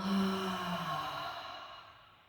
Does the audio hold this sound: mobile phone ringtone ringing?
no